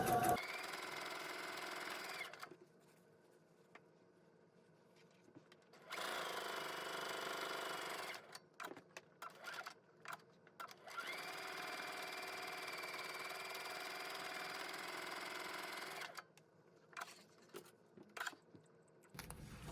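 Sewing machine stitching quilt half-square triangles for a Polaris block, running in several loud, steady bursts of a few seconds each, separated by quiet pauses and short stop-start taps.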